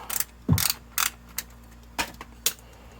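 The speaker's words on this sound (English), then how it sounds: "all you need is a 3/8 ratchet head" Sharp ratchet clicks come in short, close bursts with pauses in between, like a 3/8 ratchet being cranked in quick strokes to loosen a transfer case drain plug on a Dodge Ram 1500.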